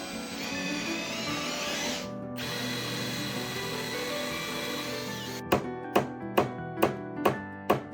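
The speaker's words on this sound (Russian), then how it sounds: "Отсюда саморезом притянем и все." Power drill driving a self-tapping screw into the body of a 26-year-old car under repair, heard as a dense mechanical whir followed by a run of seven sharp, evenly spaced ratcheting bursts near the end.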